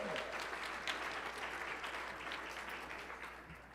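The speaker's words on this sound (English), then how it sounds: "Big round of applause." An audience at a regional Emmy Awards ceremony applauds steadily for a few seconds, a broad even wash of clapping that fades slightly toward the end.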